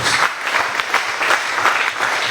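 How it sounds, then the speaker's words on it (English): A church congregation claps together, the hands falling into a loose, rhythmic beat that pulses evenly, fairly loud and close, with no voices over it. "Clap for Jesus Christ."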